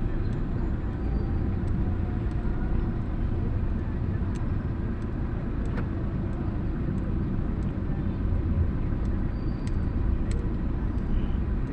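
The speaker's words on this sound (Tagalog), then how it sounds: "Grabe, traffic ko." Dense road traffic crawls along EDSA in Manila, a steady low rumble of engines with occasional faint clicks, continuous and unbroken throughout.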